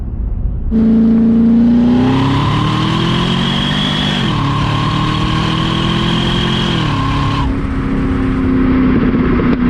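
A Cadillac CTS-V engine revs loudly and climbs in pitch, drops briefly at a slow gear change, then pulls up again before settling into a steady drone.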